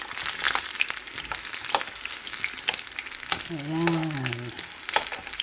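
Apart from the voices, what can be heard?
frying banana turon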